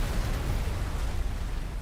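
Explosion in the video game Subnautica: Below Zero, a loud, sustained low rumbling roar filling the whole stretch without any break.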